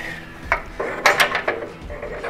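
A steering knuckle is fitted onto the spindle of a C10 truck, giving a few sharp metallic clanks and scraping knocks in quick succession, close up.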